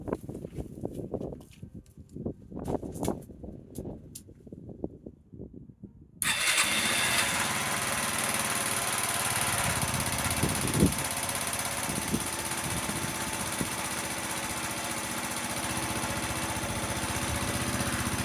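A rebuilt motorcycle engine clicks and cranks over in uneven bursts for several seconds, then fires and settles into a loud, steady, close running drone.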